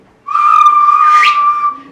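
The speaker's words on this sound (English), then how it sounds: "and he whistled" A person whistles a single sustained, bright tone lasting over a second during a festive Christmas poem recitation at a holiday follies show, with no talking over it.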